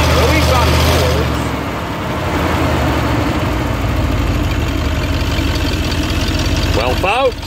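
Inside a Ford E150 van, the exposed engine runs loudly right beside the cabin with its cover removed, a steady rumbling drone with knocking texture, while people talk over it.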